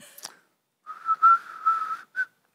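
Someone whistles a short Dvořák melody, a clear solo tune of sustained notes with a brief pause before a final note, close and fairly loud, with no talking.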